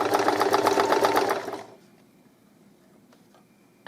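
A sewing machine doing free motion embroidery runs in a fast, steady stitching burst for about a second and a half, then stops and leaves quiet room tone.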